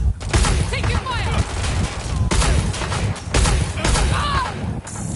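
Rapid bursts of gunfire and explosive crashes from the video game Watch Dogs: Legion fill the clip, loud and dense, repeating in clustered volleys with voices talking over the shooting.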